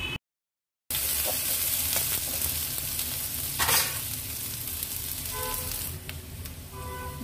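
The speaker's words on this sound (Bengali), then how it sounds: "এবার দিচ্ছি একটা পেঁয়াজ কুচি। পেঁয়াজ খুব বেশি ভাজবো না, কিছুক্ষণ নাড়াচাড়া করে নেব।" Chopped onion fries in a pan for a bhindi and eggplant curry, a steady close sizzle broken by scraping stirs and occasional clatter, after a brief silent gap at the start, with no speech.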